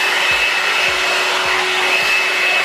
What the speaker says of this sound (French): Et là, j'allume la brosse soufflante.